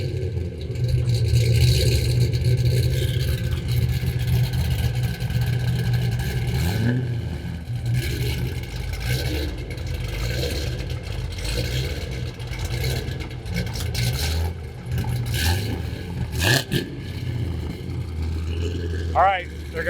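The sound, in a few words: 2014 Camaro 1SS convertible engine driving away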